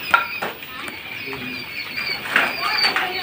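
Quail on a quail farm give short chirping calls in the background while someone talks over them.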